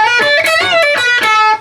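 An electric guitar plays a lead lick, alone and close: a quick run of sustained notes with string bends, releases and pull-offs, ending with a brief fade.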